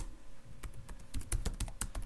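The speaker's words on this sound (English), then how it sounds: "I'm just typing this from my cheat sheet." Keys clatter on a computer keyboard in an irregular run of quick, close clicks, with no talking over them.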